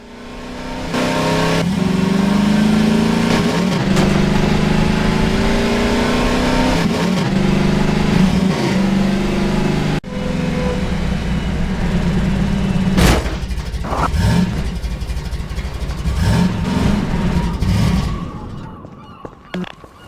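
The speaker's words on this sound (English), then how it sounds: "The audio for the Buggy was challenging because we wanted to feel like a really powerful vehicle that's driving along at super high speed" Buggy engine from the Half-Life 2 video game, a powerful vehicle at high speed, roaring and revving loudly, with pitch sweeps and shifting tones, a break near the middle and a fade toward the end.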